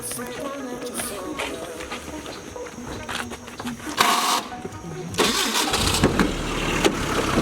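A chartered Jeep starts up on the road between Minca and Santa Marta, Colombia. Its engine turns over into a mid-pitched rumble, growing louder and rougher partway through, close by and mixed with background noise.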